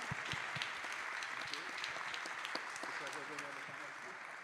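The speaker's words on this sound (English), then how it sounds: "give a hand for our wonderful panelists" An audience applauds panelists at a national urban health conference, a steady wash of clapping throughout with a few louder distinct claps near the front.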